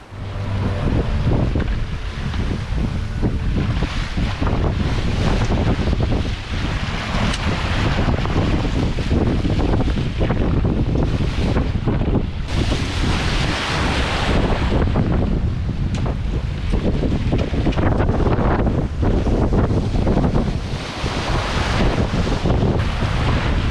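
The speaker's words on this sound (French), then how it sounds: "les vagues." Sea waves wash and surge around a sailboat under sail with no engine running, while steady wind buffets the microphone loudly and continuously throughout.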